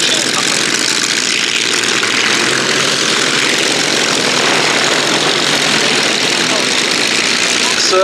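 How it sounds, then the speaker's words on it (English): A large formation of Spitfire warbirds flying over Duxford at an air show, a loud, dense roar of piston engines and propellers filling the air continuously, steady and close overhead. "every time we do a big Spitfire formation like this at Duxford"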